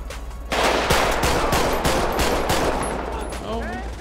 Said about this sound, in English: Who was this shooting at me?